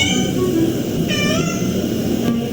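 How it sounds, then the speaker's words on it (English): A cat meows at night, a loud, close, drawn-out call with a second rising cry partway through, over a steady background hum. "Reasons why cats make weird noises at night"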